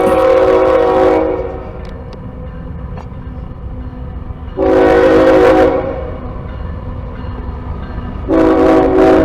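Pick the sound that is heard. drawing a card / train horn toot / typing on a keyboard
train horn toot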